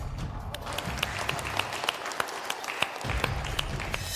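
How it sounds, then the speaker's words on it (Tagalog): Loud applause from a wedding crowd greeting the couple, dense steady clapping with sharp individual claps standing out, some murmuring voices mixed underneath. "bigyan natin sila ng malakas na palakpak"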